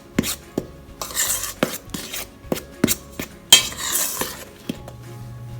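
Quick mixing in a bowl for eggless sugar cookies: a series of sharp utensil clinks and scrapes against the bowl, irregular and fairly close, with brief quiet gaps between strokes.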